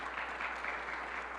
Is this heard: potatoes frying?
no